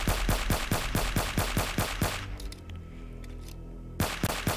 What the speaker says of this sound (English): Time just to go back to using the classic old pistol.